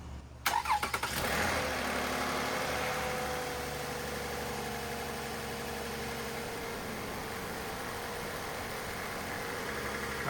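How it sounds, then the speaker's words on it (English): A Lexus ES 350 V6 engine cranks briefly and catches, then settles into a smooth, steady idle that hums on evenly and close by for several seconds. "Now we're going to turn on the engine, let it run for a minute"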